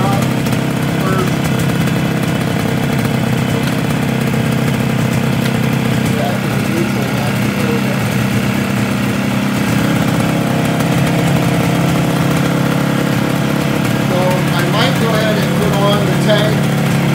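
Yamaha RD350 two-cylinder two-stroke motorcycle engine running steadily after restoration, with both cylinders firing, a loud continuous buzzing idle close by and some revving and popping near the end.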